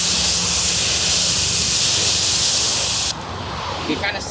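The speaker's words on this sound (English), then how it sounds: "It says only do a few light sprays per panel." 303 Spray & Rinse ceramic spray hisses onto a car panel in one long, close, steady burst that cuts off abruptly, followed by quieter handling noise.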